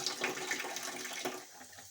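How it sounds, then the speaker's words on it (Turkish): Water trickling and dripping from a valve opened on a Demirdöküm combi boiler showing a pressure fault, a steady close, soft splashing wash with no talk. "Açıyorum. Görüyor musunuz? Damlamaya başladı."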